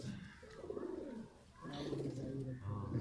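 Pigeons on a rooftop loft give faint, low cooing and rustling, quiet and close, with no clear talk over them.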